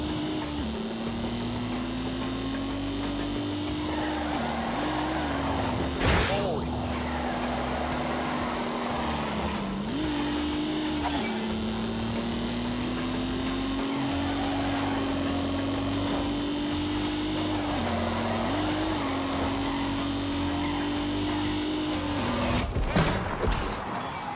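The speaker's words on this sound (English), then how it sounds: "What was that noise? Whole car's vibrating." A steady droning engine hum with a buzzing vibration from a car in The Grand Tour Game, holding a constant pitch with small dips and a few brief knocks.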